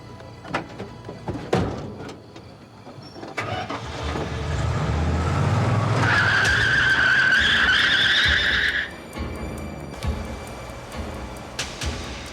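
A truck roars off from a standstill, its tires skidding and squealing loudly for a few seconds over a revving engine, then the noise falls back to quieter road and background sounds.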